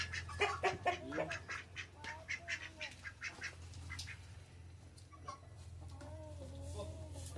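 A black hen clucks repeatedly in quick bursts, then softer intermittent clucks follow, fairly close with faint background hum.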